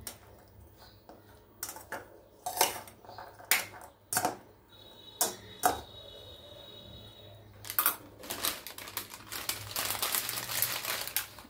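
Chana chaat is mixed in a bowl with a spoon, giving irregular close clinks and scrapes against the bowl, scattered crinkling and a denser run of rustling, scraping stirs near the end, with no one speaking.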